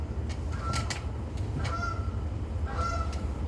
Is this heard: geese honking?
yes